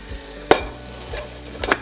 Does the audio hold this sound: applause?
no